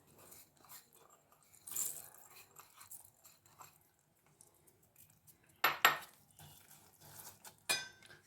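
Roasted dry nuts and brittle pieces drop into a pan for dryfruit chikki, making a few scattered clinks and rattles, with two brief sharper clatters standing out amid quiet kitchen handling.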